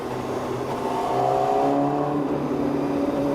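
A Honda CBR1000RR-R Fireblade SP sport motorcycle engine revs up steadily on a highway, its pitch climbing as it accelerates, loud and continuous with no voices.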